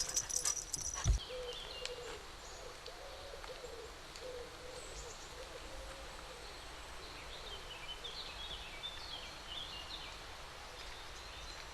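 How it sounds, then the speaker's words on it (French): Dogs play in a wild riverside park, with faint whimpering and soft yelping calls repeating over a quiet outdoor background, distant and low in level, a sharp knock early on. "les chiens s'amusent."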